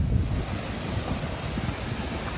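The Androscoggin River rushes past a hydroelectric dam, a loud steady wash of turbulent water mixed with wind buffeting the microphone, with no talk.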